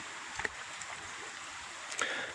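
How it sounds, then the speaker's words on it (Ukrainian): A small, clear river flows outdoors in the Czech countryside, a soft, steady rush of water with a couple of brief splashing bursts, faint and somewhat distant. "Дуже, дуже гарна річечка з такою прозорою водою."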